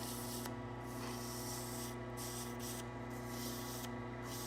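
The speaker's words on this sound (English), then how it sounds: "I'm going to sand just a little bit to quickly clean it up" A wood-turned Shaker pull is sanded on the lathe, a faint, steady rubbing hiss over a constant machine hum, with rhythmic swells as the paper passes.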